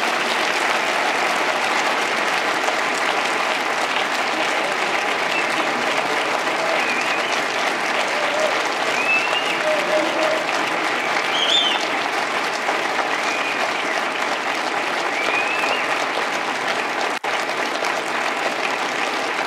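A large audience at Davos 2017 gives sustained applause to welcome US Vice President Joseph Biden; the clapping is steady and dense throughout, with no lull.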